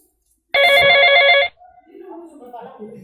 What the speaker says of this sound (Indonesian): Telepon dulu mamang ini.